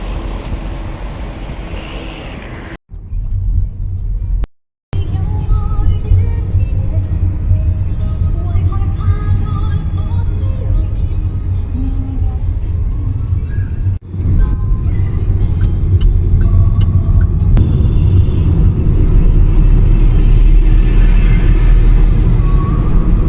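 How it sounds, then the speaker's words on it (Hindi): A cab pulls up and drives through busy Guangzhou city traffic, a continuous low engine and road rumble mixed with heavy wind buffeting on the microphone, with a voice speaking briefly over it. "Here comes my cab."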